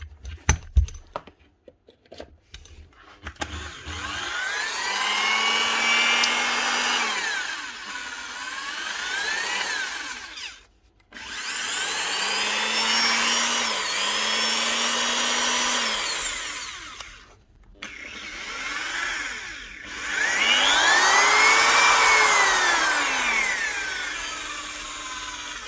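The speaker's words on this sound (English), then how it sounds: "next up is a Makita precision drill" A Makita HP2070 precision drill whirs up to speed three separate times, each run a loud, sustained whine with rising and falling pitch, separated by brief pauses.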